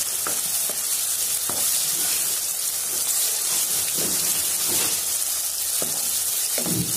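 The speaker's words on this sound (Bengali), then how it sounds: "2-1 মিনিট ভেজে নিচ্ছি আমি আদা রসুন বাটাটাকে" Ginger-garlic paste sizzles steadily in hot oil, a dense, continuous crackling hiss with occasional louder pops and stirring scrapes, close and without talk.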